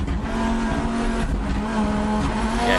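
A rally car at speed gives a loud, continuous engine roar with a sustained tonal drone and rising and falling revs, mixed with tire noise, close and unbroken for nearly three seconds.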